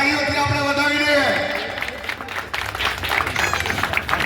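Someone speaks over the sound system at a political rally for municipal elections, then crowd applause swells and carries on as dense, steady clapping to the end.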